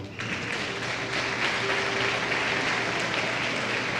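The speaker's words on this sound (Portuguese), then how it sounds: "Dê um aplauso ao Senhor" A church congregation claps for the Lord during a sermon, dense sustained applause that starts abruptly and stays steady and fairly loud throughout.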